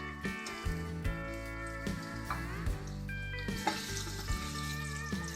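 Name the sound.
sliced onion frying on low flame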